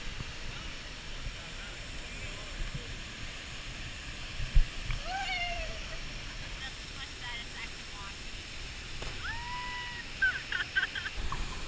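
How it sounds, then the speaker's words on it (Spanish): Rushing water of a rising river flood and waterfall in Jarabacoa, a steady broadband roar throughout with a few faint tonal whistles or calls above it. "miren cómo empieza la crecida, miren la cascada"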